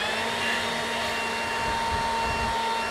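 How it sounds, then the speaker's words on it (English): A small Batman-themed portable fan blows air on a fishing boat, giving a steady, close whirring hiss that holds constant throughout with no voices over it. "It's a Batman air conditioner."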